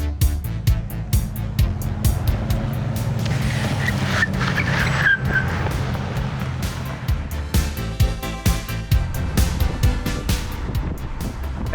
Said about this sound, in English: let's get inside and take this Mach-E GT up and down Woodward to see what it's like